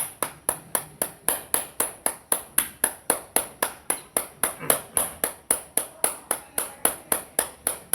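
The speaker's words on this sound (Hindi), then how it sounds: "ताली से हो" Hand clapping during a yoga exercise: sharp, regular claps repeating at a brisk, even pace, about four per second, loud and close for the whole stretch.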